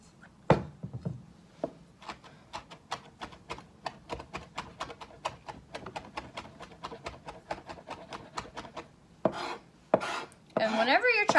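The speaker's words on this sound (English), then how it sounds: "your parent can chop up the rosemary for you" A knife chops rosemary leaves on a cutting board, a long run of sharp, evenly spaced taps close by that speed up and then stop, followed by a short burst of voice.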